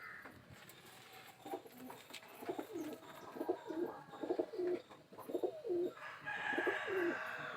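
Homing pigeons, a female and a male, coo in soft repeated rolling phrases, several overlapping calls rising and falling close by against a steady background hiss.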